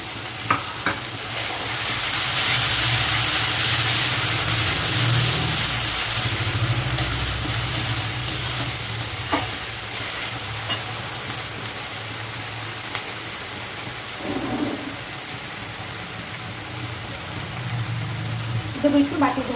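Ginger and garlic paste fries with a steady close sizzle while a spoon scrapes and stirs it in the pan, with a few sharper knocks, under a low background hum.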